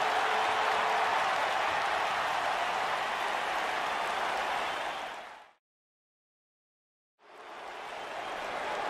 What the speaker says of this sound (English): Look at this Dallas crowd shower these competitors with appreciation